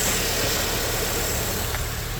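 A cheap barn-find Mini car engine running, a steady close idle with a constant low rumble and broadband mechanical hiss, loud and even throughout.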